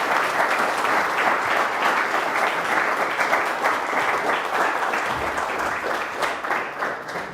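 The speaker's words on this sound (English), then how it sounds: "Så en varm applåd för Christopher Bollyn." A lecture audience breaks into sustained warm applause for Christopher Bollyn, a dense, even wash of many hands clapping filling the hall for several seconds without pause.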